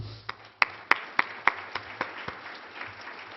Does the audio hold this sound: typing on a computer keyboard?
no